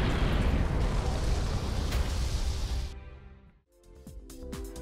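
A huge explosion splits the asteroid fortress Axis in the video game Another Century's Episode 3, a loud, sustained rumbling blast that cuts off abruptly, then gives way to ringing tones and scattered crackling.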